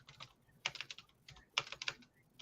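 Bursts of clicky computer-keyboard typing come in two quick clusters, each a rapid run of keystrokes, close and fairly loud in a quiet room, with no talking.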